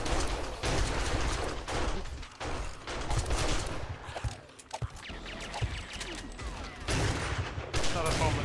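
Dense gunfire in the video game 7 Days to Die as players shoot zombies, with loud, continuous bursts of shots layered over game effects and little pause across the stretch.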